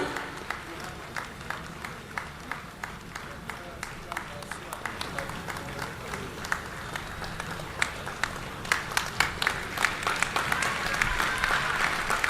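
Crowd at Amit Shah's large public rally in Amingaon claps continuously, the applause swelling louder and denser toward the end, heard from some distance.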